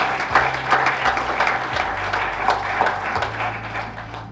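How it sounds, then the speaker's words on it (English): Conference audience at a parks congress gives a sustained round of applause for park rangers, dense and even crowd clapping that holds steady from start to finish, with a low tone humming beneath. "how about a big round of applause for all the Rangers just doing that work on the front line"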